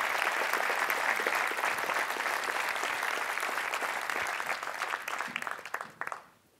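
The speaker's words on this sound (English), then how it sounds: "Let's give them a round of applause." Audience applause for elected officials at a Las Vegas State of the City event, a loud sustained round of clapping from a large crowd that tapers off and stops near the end.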